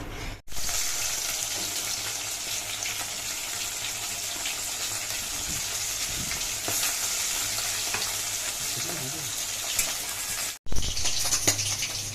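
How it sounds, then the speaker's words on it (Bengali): Oil sizzling hot in a wok for a spinach dish, a loud continuous close-up hiss that runs almost unbroken, with a brief cut near the end and no talking. "আর এখানে কড়াইয়ে তেল দিয়ে দিয়েছি,"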